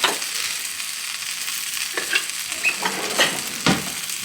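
Quesabirria tacos toasting in a hot pan with a steady sizzle and fry, broken by a few scraping stirs and clinks of a utensil, close and alone.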